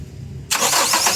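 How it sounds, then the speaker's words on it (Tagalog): A Toyota Innova engine in a repair shop cranks and catches abruptly after a quiet moment, settling into a loud, close idle that rumbles on. "Pero ipapa-start ko itong makina."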